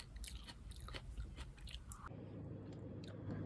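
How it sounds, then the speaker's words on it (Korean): Crunchy chewing of corn on the cob, close and steady bites and mastication throughout, with no talking. "옥수수 나만 이렇게 많이 먹어요?"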